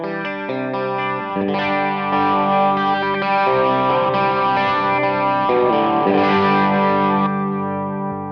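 An electric guitar runs through a Fractal FM9 with chorus placed after the pedals, strummed chords and picked notes shimmering with a wide, wavering modulated tone, steady and loud with no talk.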